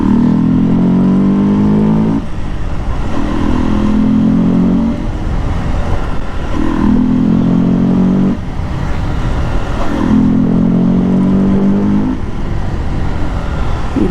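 Modified KTM Duke 200 motorcycle ridden on a road, its loud engine rising and falling in three or four repeated rev surges with steady engine drone between them, close and continuous throughout.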